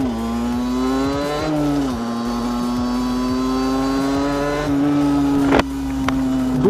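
Small motorcycle with a Conti V7 exhaust and a 19 mm carburettor, idling close and loud with a buzzing, steady two-stroke tone, a brief blip of revs, and a couple of sharp knocks.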